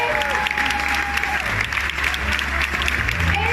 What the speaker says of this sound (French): Mesdames et messieurs, nous applaudissons Monsieur Guy Savoie